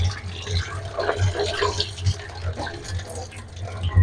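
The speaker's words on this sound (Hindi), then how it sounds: "अब इसके ऊपर से और पानी डाल लेना है, इसको धो लेना अच्छे से" Water poured into a bucket to wash soaked bitter gourds (karela), an uneven splashing and trickling with gurgles and drips that swell and ebb at close range, without voices.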